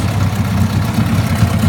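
A Mercury 9.8 HP outboard motor runs steadily in reverse gear, giving a continuous low, rumbling idle drone at close range with no voices.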